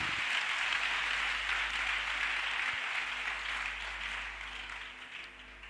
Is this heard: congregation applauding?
yes